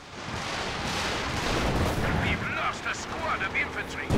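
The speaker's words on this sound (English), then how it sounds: "Maybe his walking Stuka ready to fire again." Walking Stuka rocket artillery fires in the WWII strategy game Company of Heroes 2, a loud sustained roar of launching rockets and blasts building over several seconds, with faint voices and battle noise underneath.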